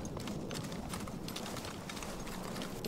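Steady clip-clop of horse hooves trotting in the video game Battlefield 1, continuous and even over a noisy, dense background.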